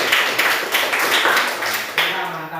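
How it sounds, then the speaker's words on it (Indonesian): A classroom of students claps in a short burst of bright, dense applause, a few sharper individual claps standing out near the end. "Tepuk tangan dulu untuk semuanya."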